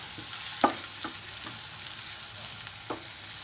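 Chopped onion fries quietly in a pan for stuffed capsicum gravy, with a soft background sizzle broken by a few sharp spatula scrapes and taps as it is stirred.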